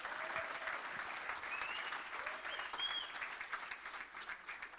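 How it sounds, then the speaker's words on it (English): Audience at a Saturday evening community gathering in Doha applauding, a sustained dense burst of clapping from a crowd indoors, with faint vocal cheers mixed in. "give me a big round of applause."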